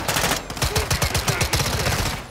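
Rapid automatic gunfire from a Modern Warfare II firefight rattles in quick, evenly spaced shots for about two seconds, loud and close with no talking.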